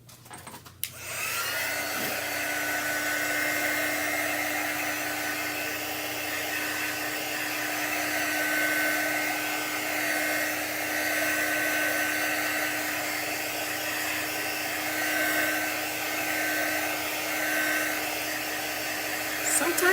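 A hair dryer blows steadily on a chalk-painted design, starting after a few brief clicks and running as a loud continuous whir with a constant high whine for most of the stretch.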